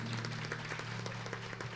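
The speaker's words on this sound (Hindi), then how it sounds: "एक बार ताली तो बजा लो थोड़ी सी।" An audience at a Shrimad Bhagavat Katha religious discourse in Vrindavan claps for a couple of seconds, a dense patter of hands over a low steady hum.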